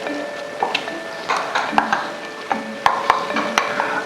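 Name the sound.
dry onion added to pan and fried with stirring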